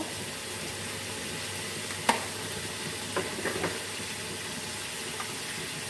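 Steady sizzling of chicken frying in a hot pan for chicken korma, with a few faint clinks and scrapes of stirring.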